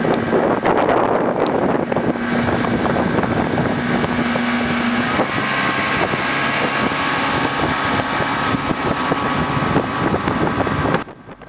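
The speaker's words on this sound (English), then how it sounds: "the old carbureted Johnson engine sounds extremely quiet for its age" An old carbureted Johnson outboard on a restored Thundercraft boat runs steadily at speed through an inlet, its engine drone nearly buried under heavy, continuous wind buffeting the microphone, with a brief tonal hum early on.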